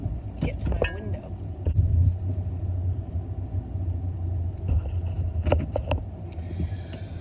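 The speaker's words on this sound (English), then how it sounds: "I'm going to pull forward a little bit so when they come out they can get to my window" A car creeping forward a short distance, a low engine rumble holding steady under a person talking, with a few brief clicks and knocks over it.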